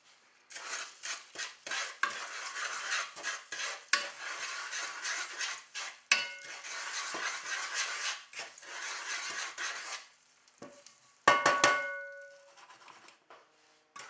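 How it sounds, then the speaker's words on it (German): Butter and sugar stirred in a cooking pot for apples, a steady scraping and clinking of a spoon against the pot in long bursts with brief pauses, then a few sharper clangs near the end. "für die Äpfel, da geben wir Butter in den Kochtopf. Und wenn dann die Butter geschmolzen ist, geben wir noch Zucker hinzu"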